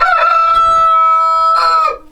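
Rooster crowing in a backyard flock, one long, loud, close crow with a drawn-out call and a second crow beginning near the end, no talk over it.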